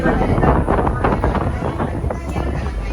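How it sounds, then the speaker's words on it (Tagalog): Strong wind buffets the microphone in Taipei, Taiwan, with a steady low rumble and roar throughout, and a voice speaks briefly over it. "Super lakas ng hangin."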